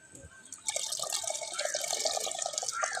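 Dissolved tamarind water poured into a pot for sardine fish curry, a close liquid stream that begins after a brief quiet moment and continues steadily with splashing and dripping.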